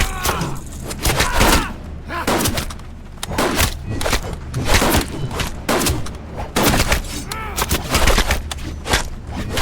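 Rapid bursts of gunfire from the post-apocalyptic video game Survive the Fall crack in repeated loud volleys over about ten seconds, sharp close shots with thudding echoes between them.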